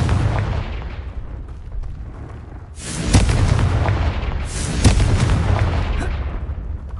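Confringo explosion spell in the video game Hogwarts Legacy: a loud booming blast bursts in around the three-second mark, followed by a second heavy blast, over a rumbling game soundscape.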